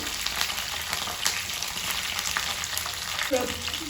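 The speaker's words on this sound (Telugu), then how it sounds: "ఇందులోనే అల్లం ఉల్లిగడ్డ పేస్ట్ వేసుకుంటాము" Ginger and onion paste fries in hot oil for a chicken fry, giving a steady, close, crackling sizzle with faint stirring throughout.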